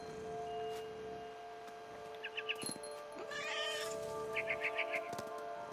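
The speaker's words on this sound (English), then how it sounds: "I was a cat." Several high, quick cat meows in the video game What Remains of Edith Finch, sounding in short bursts over steady game ambience and background hum, fairly close but not loud.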